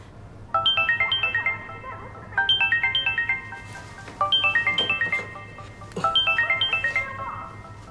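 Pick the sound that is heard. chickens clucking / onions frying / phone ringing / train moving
phone ringing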